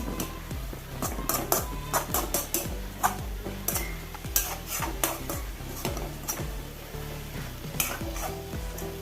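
Mixed leafy green thoran being stirred in a pan, with a steady stream of scraping strokes and spatula taps against the metal over a constant sizzle, close and fairly loud, with no voices.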